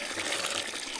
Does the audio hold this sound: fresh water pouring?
yes